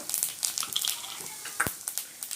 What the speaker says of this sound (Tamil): கடலைப்பருப்பு கொஞ்சம் நல்லா பொரிஞ்சு வரட்டும்